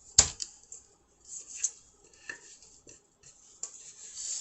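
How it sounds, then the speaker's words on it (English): Keto chocolate chip cookie dough is pressed and scraped into a springform pan, giving sparse soft scrapes and light taps with one sharp knock near the start, close and quiet. "you're just going to put it into your prepared little springform pan."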